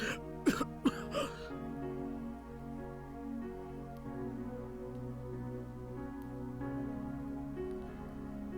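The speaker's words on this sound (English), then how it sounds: "for some reason, Takayama coughed next to him." A character in the video game Killer Queen gives two sharp throat-clearing coughs up close, followed by a soft, sustained musical background.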